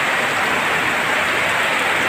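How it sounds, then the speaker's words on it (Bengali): Heavy rain pours down on a village, a steady, dense hiss of water that holds constant and fairly loud with no breaks or voices. "প্রচুর পরিমাণে বৃষ্টি হইতেছে। এত পরিমাণ এত জোরে বৃষ্টি হচ্ছে"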